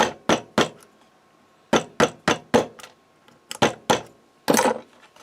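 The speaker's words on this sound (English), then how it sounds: "Drive out their 2 roll pins right here." Hammer strikes drive roll pins out of a DeWalt D51238 nail gun, a dozen sharp close metallic knocks in irregular clusters with short gaps between.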